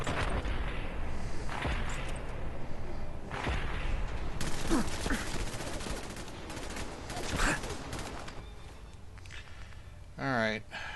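Gunfire in Fallout 4 against a target with fusion cores: repeated sharp shots and bursts over dense, loud combat noise, with a voice talking through much of it.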